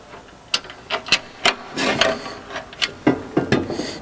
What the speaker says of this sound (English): next we're going to use an Allen bolt to secure this bracket, and it has to go from the inside